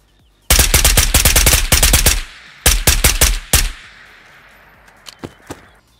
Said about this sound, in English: There's some shots to our right.